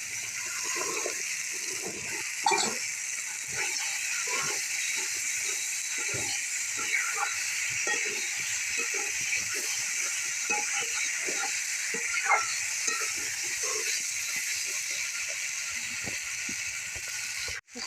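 Chicken pieces sizzle and fry in hot spiced masala in a pan, a steady broadband hiss running throughout with frequent scraping stir clicks, close and fairly loud, and no voices over it.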